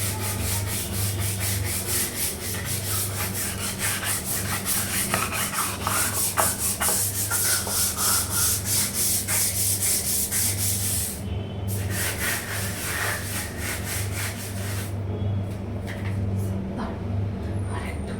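White bathroom tiles are scrubbed by hand, with fast, rough rubbing strokes that repeat continuously and loudly up close, pausing briefly twice.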